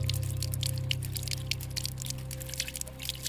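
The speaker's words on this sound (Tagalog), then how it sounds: "Narinig niya ang patak ng tubig" Water drips steadily in a dark hallway during a Tagalog horror story, a quick irregular patter of small droplets over a low constant hum.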